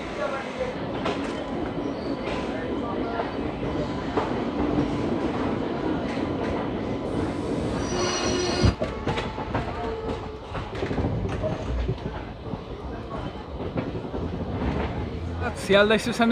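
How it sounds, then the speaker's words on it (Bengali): A passenger train departing Sealdah station rumbles steadily on its rails with a constant low roar and clatter, close by, as people talk faintly in the background. "শিয়ালদা স্টেশনে ন নম্বর প্ল্যাটফর্ম থেকে আমাদের ট্রেন ছেড়ে দিল"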